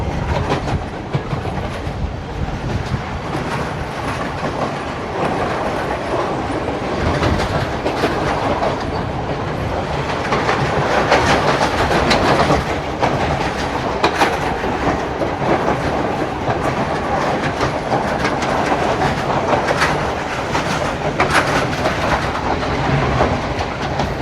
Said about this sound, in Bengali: চলে এসছে আমাদের train Mount Lavinia railway station